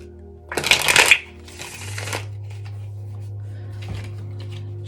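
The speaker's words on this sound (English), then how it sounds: "Just using the old lap to shuffle the deck." A tarot deck is riffled and shuffled on a lap in two quick bursts at close range, followed by a low hum and a few soft taps.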